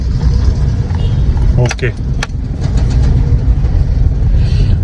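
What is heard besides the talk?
road traffic jam outside house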